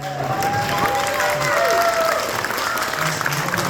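A crowd claps steadily in a room during a vintage tech panel talk, dense applause mixed with some cheering and a few voices beneath it.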